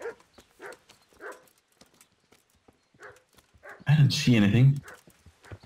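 Horse hooves clip-clop in the medieval role-playing game Kingdom Come: Deliverance, a short loud burst of rapid hoofbeats near the end, preceded by scattered talk and quieter sounds.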